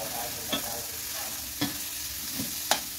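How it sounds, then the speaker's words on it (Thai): A few sharp clanks of a utensil against a pan over a soft steady sizzle of pork stir-frying, spaced irregularly, close by with no voices. "เวลาเราผัดหมูจะได้ไม่ติดกระทะค่ะ"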